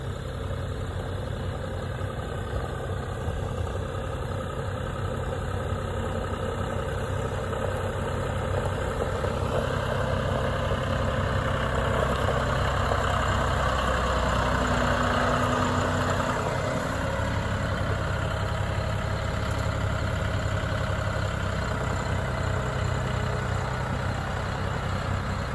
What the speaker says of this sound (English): And Lynn bringing a tractor to put it back to shelter.